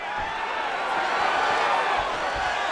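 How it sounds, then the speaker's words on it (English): A video game crowd roars and cheers at a UFC 5 bantamweight bout between Julianna Peña and Kayla Harrison, a dense, sustained arena din. A commentator's voice sits faintly within it. "Crowd going crazy."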